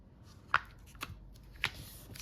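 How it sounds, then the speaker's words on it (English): A paper flipbook of exponent notes is flipped over and folded down, giving three short, crisp papery snaps spaced about half a second apart against a quiet background. "flip it over and fold down like so"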